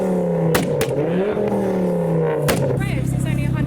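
A Ford Focus ST engine revs hard at a rev battle meet, pitch climbing and holding high before dropping off, with sharp clatters and a brief rising blip near the end.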